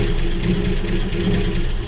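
A 1966 Ford F100 truck engine, brought back after sitting for 32 years, runs with a steady, close, low rumble and an even idle throughout.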